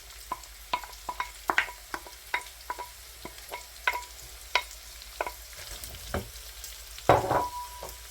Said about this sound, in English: So in with our onions.